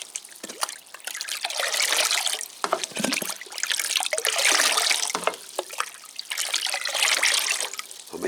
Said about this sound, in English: So give it a rinse round.